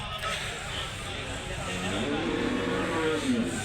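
Cattle at a village livestock market in Krishnagiri district, India, with native cows and heifers lowing under a general crowd hum and nearby talk.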